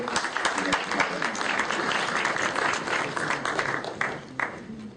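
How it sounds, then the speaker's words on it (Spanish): Audience at a professional forum on Peru's future, hosted by professional associations, breaks into steady applause, a dense wash of clapping lasting several seconds and thinning slightly toward the end. "También les damos un cordial aplauso."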